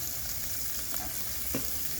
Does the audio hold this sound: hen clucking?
no